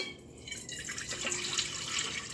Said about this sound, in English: we're going to pour our yeast mixture